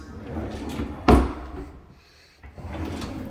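A large pot drawer in a kitchen slides open with one sharp thud, heard close amid soft indoor room sound, and someone talks before and after it.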